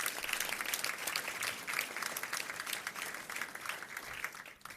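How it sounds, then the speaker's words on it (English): Audience applause at a school district board meeting for a school music group: a steady, moderately distant clapping that holds for several seconds before tapering off at the end. "Let's give them a round of applause."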